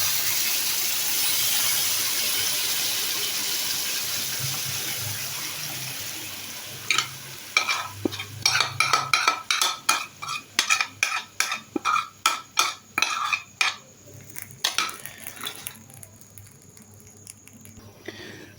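Yogurt paste stirred into minced-meat keema kebabs frying on a tawa pan: a steady sizzle, then a series of rhythmic scraping and clinking stirring strokes, close and fairly loud.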